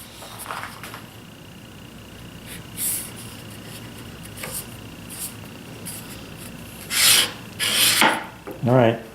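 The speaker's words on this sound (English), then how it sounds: "I'm going to countersink this as well." A countersink bit rasps into a hole in white oak, with several short grinding bursts growing louder toward the end amid quiet workshop clatter.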